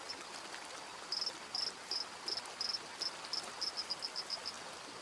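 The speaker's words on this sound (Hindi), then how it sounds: "मेंढक मादाओं का ध्यान खींचने के लिए आवाज निकालते हैं" Male dancing frogs call near a forest stream, a series of short, high chirping notes repeated in quick irregular bursts over a faint, steady background hiss of running water.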